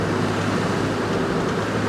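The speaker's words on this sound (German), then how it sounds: "Und richtig schöne Wellen." Ocean waves wash at the shore with a continuous broad roar, steady and close, tinged with some wind, and no voices.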